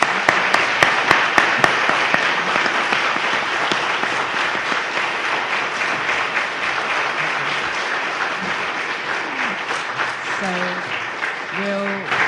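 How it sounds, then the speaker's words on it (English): A conference audience claps for a panel, steady dense applause that starts with a few sharp individual claps, then fades slightly as voices rise near the end. "can you join me in a round of applause for our panelists?"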